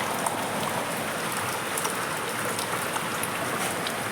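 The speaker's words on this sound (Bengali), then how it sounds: "আমাদের এখানে আজকে প্রচণ্ড বৃষ্টি, প্রায় উঠানে জল জমে গেছে।" Heavy monsoon rain pouring steadily onto a home courtyard where water is pooling, a dense, loud, unbroken hiss with scattered close drips and no voices.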